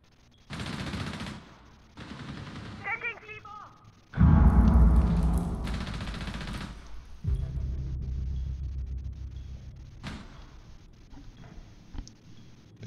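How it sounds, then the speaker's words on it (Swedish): Enemy gunfire in Rainbow Six Siege comes in several bursts, some muffled and distant, one loud close volley with thuds and rumble, plus scattered single shots. "Fienden skjuter åt det här hållet."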